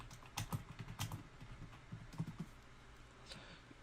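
Rapid keystrokes on a computer keyboard while typing a Windows 10 download search into a browser search bar, a near, irregular clatter of bursts with brief pauses between them.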